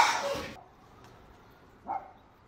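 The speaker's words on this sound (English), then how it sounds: "Look at the dog going after it." A dog gives a single short bark after a burst of noise, moderately close and otherwise quiet, with a faint background in between.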